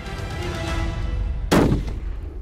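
A single loud hunting rifle shot fired at an ibex cracks out at close range about two-thirds through, following a stretch of wind and outdoor background noise.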